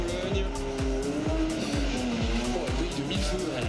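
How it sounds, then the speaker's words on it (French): Nissan S14 drift car launching at a drift event in Val d'Argenton, engine revving in rapid repeated pulses as the tires squeal steadily, with an announcer talking over it. "on s'élance maintenant pour Fred Wivet avec sa S14"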